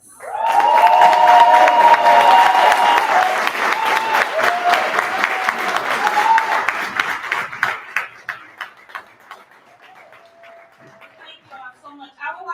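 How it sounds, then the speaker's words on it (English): An audience claps and cheers at a book launch, loud and sustained at first, then thinning to scattered claps before fading, with some voices mixed in. "give yourselves a round of applause"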